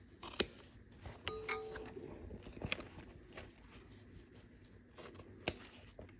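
Scissors trim a thread tag on a sewn leather piece, making a few quiet, close snips spread over soft handling noise.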